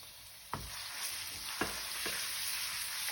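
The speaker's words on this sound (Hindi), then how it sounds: "इसमें मैं डाल रही हूँ जिंजर गार्लिक पेस्ट। इसको फ्राई कर लेंगे।" Ginger garlic paste fries in hot oil in a kadai, the base for a carrot, cauliflower and turnip pickle. A soft, continuous sizzle runs under three knocks of a spoon stirring against the pan.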